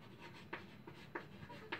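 Pen scratching on paper while writing down a weight problem, faint and close, in short strokes with a few sharper ticks, no voice.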